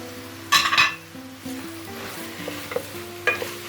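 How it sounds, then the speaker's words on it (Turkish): Mushrooms tossed into a pan of sautéed onions for a chicken pot pie filling give a soft sizzle, with a loud scrape and clatter of stirring near the start and a brief clink near the end. "Şöyle mantarlarımı atıyorum."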